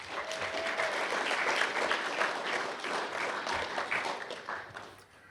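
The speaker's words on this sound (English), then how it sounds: "please join me again in a round of applause in his honor" At an awards ceremony, an audience gives a sustained round of applause that holds steady and then fades toward the end, moderately distant, with no one speaking over it.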